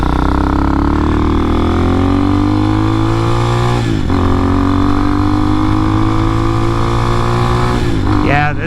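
A 250cc enduro motorcycle climbs a steep hill in fifth gear at nearly 50, its engine droning loud and steady with two brief dips in pitch before pulling on, with a rider talking over it.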